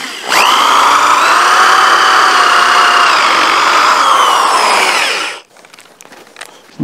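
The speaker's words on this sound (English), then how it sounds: "I'm going to countersink here on my mark that I made the depth of the washer and the head of the lag bolt." Power drill countersinking a hole for a lag bolt and washer in a timber top plate of a dovetail log cabin: a loud, close, steady whining drone for about five seconds that winds down, followed by faint clatter.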